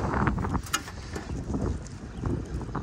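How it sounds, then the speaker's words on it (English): Gusty wind buffets a microphone outdoors beside a rusted-out Carrier rooftop unit under overhaul, a steady loud rushing rumble with a few faint metallic clinks and no voices. "It's a little bit windy."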